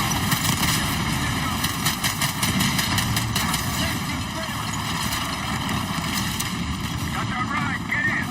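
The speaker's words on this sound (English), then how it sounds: "you got coalition helos inbound from the east" Coalition helicopters approaching in the video game Call of Duty Black Ops 6: a loud, continuous engine and rotor roar with a rhythmic beat, mixed with other battle sounds throughout.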